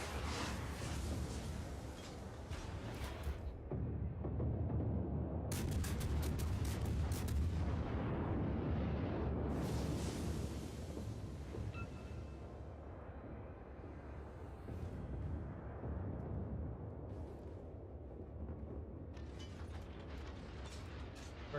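Naval gunfire from a heavy cruiser in the World of Warships video game, high-explosive shells fired at a destroyer: a dense, loud battle mix of repeated booming salvos with mechanical clanks and creaks of turrets, no talk.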